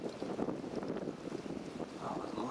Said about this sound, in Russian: Ветер как-то сейчас начинает порывами дуть.